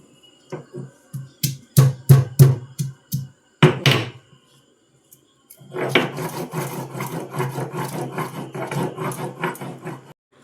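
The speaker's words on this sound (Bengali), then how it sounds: "এবার রসুনের কোয়াগুলো আমি শিলে বেটে" Garlic cloves are crushed on a stone grinding slab (shil): a series of sharp knocks and thuds, a pause, then steady, close, rhythmic scraping and grinding of stone on stone.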